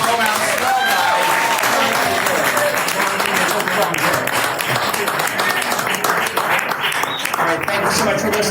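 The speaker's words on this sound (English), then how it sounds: "an incredibly large round of applause for the author" A crowd at a book launch party gives the author a loud, sustained round of clapping, close and dense, mixed with cheering voices.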